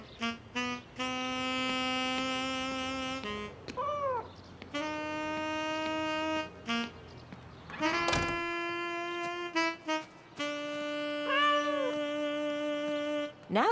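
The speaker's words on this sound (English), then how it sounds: "No cats on the table." A house cat meows repeatedly in long, drawn-out, tonal calls with short pauses between them, close and fairly loud, heard on its own in an indoor family setting.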